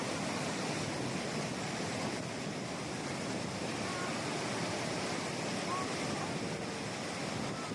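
Iguazu Falls, on the border of Brazil and Argentina, roars in a dense, unbroken wash of rushing water that stays loud and steady throughout with no gaps.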